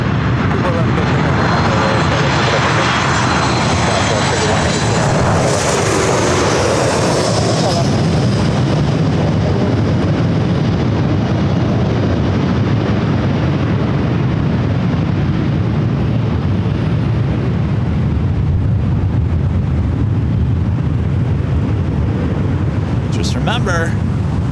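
A SkyWest regional jet roars down runway 24 left at LAX on its takeoff roll, a loud sustained engine rumble with wind buffeting that swells and then slowly fades as the aircraft climbs away.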